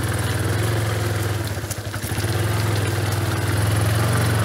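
A motorcycle engine labours steadily at low revs on the muddy BR-319 road through the jungle, with a continuous throbbing drone that dips briefly midway before resuming close and loud.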